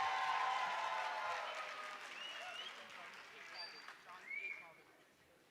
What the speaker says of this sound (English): A huge round of applause for all the dancers